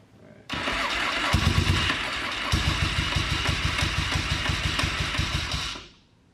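A Yamaha XS650 motorcycle's starter motor cranks the engine in one continuous burst of about five seconds, a loud close mechanical whirr with rhythmic chugging pulses that winds down without the engine catching; no talking.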